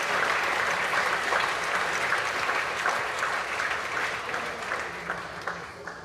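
A conference audience gives sustained applause in memory of a deceased colleague, a dense, even wash of clapping at moderate loudness that thins and fades slightly toward the end.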